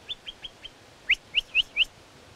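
A torrent frog gives a whistling call in the forest: four short faint chirps, then four louder rising whistles in a steady series, with nothing else heard.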